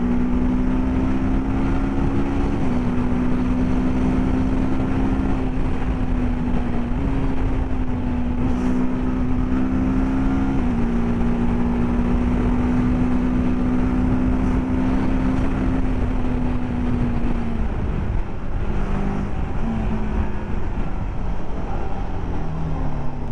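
A TVS RTR 310 motorcycle runs steadily and loudly for the whole stretch, its engine drone holding a near-constant pitch with slight shifts as the throttle changes, and no voices.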